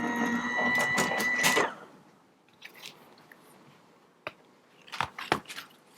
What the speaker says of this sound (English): now I'm going to run this through my die cutting machine, which is a Gemini Junior.